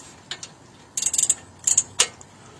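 Ratchet wrench tightening brake bolts on a 1998 Jeep Grand Cherokee, with quick bursts of sharp metallic clicking in short groups separated by pauses, close and clear, no talk.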